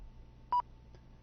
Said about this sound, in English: we can hear our little beep.